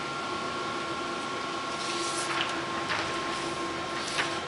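J16 UV printer running its first nozzle check after a week idle: a steady mechanical hum with a faint tonal whine and occasional brief hissy swishes of the moving head.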